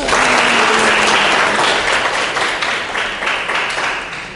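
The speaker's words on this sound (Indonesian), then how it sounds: "Tepuk tangan dulu dong untuk Wahyu." A class bursts into applause for Wahyu, a dense, loud burst of clapping from many hands that starts at full strength and tapers slightly toward the end.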